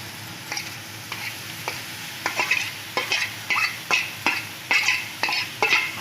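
Grated paneer cooks in a pan for paneer bhurji under a soft sizzle, while a utensil stirs and scrapes in rhythmic strokes that grow louder and more regular toward the end, with no talking.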